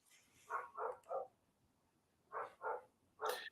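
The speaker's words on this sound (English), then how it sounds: "And I'm hearing dogs." Dogs bark somewhere in the distance, faint behind a hissy background: three barks close together, a pause, then three more, the last one slightly brighter, and no one speaks.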